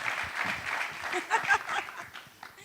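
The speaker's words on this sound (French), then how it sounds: "On peut l'applaudir" Studio audience applause on a French-language television talk show, a mixed wash of clapping heard under a talking voice, moderately loud and fading toward the end.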